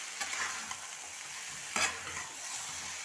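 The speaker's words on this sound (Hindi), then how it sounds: "थोड़ी देर बैंगन को ही भूनने देते हैं।" Potato and eggplant pieces sizzle in hot oil in a kadai, with a steady close frying hiss and occasional scraping stirs of a spatula.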